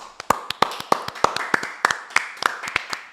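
Hand clapping from a small group, a quick series of sharp, close claps in a loose rhythm that speeds up slightly over a few seconds, with no talking.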